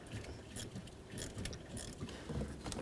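Hose clamps being loosened on the heater core coolant hoses of a Chevy C/K truck, giving a steady run of small metallic ratcheting and clicking close by, with no talk.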